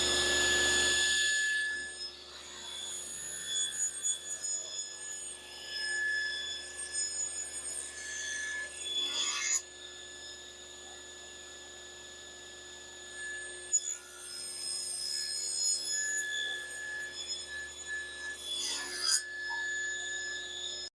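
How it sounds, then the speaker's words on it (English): A test mortise is cut into a poplar frame piece, a steady close grinding, rasping machine cut lasting several seconds, then a quieter hum, then a second similar cutting pass. "Now ready to cut our test mortise."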